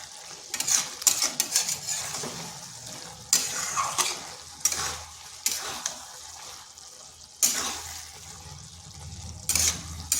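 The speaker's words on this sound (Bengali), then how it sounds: "এটাকে এভাবে 2 থেকে 3 মিনিট একটু নেড়ে নিচ্ছি।" Chopped cabbage being stirred and fried in a pan for a vegetarian dish, with scraping bursts of the spoon against the metal over a soft, steady sizzle, close and fairly quiet.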